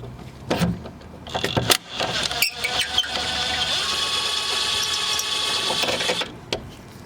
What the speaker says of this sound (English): I'm going to stick a socket with an impact to take out the locking nut